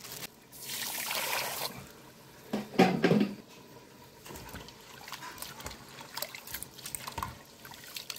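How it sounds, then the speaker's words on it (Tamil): Water pours and splashes into a vessel of rice soaking for mutton biryani, a brief trickle followed by a heavier splashing pour, then quieter stirring and clinks, close with no talk. "நம்ம அரிசி ஊற போடலாம், அப்புறம் தண்ணி ஊற்றிக்கலாம்"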